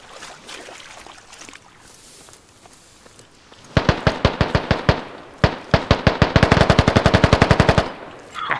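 Automatic gunfire in the video game Squad, starting with a burst of rapid sharp shots, a brief pause, then a longer sustained volley of evenly spaced loud cracks, with no talking over it.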